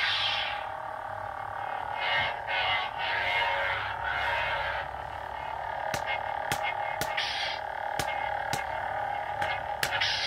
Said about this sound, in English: So this is Luke's ignition.